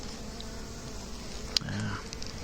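Honeybees at an open beehive keep up a close, continuous low buzz. A short tap cuts through near the middle and a brief murmur of voices follows.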